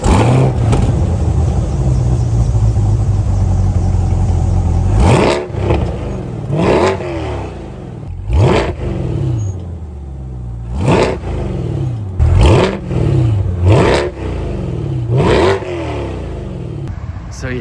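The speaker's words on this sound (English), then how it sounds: "Now here's what the Vette sounds like right here." A 2020 Chevrolet C8 Corvette engine, with its quad exhaust, revs hard in a string of sharp, loud blips, each rising and falling quickly, with a steady idle rumble between them and faint talk early on.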